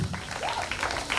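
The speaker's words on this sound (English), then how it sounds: "Let's clap for them as they leave." Soft, scattered clapping from a school-year closing audience as schoolchildren leave, brief and fairly faint, with a faint voice mixed in.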